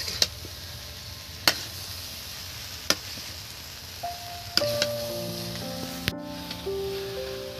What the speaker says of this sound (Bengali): বন্ধুরা দেখুন ভালো করে একদম চর্বি দিয়ে কষে নেওয়া হয়েছে